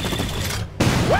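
Gunfire rattles in the Iron Harvest 1920+ video game as a dense volley. It briefly drops away, then resumes with battle noise and a short game voice line.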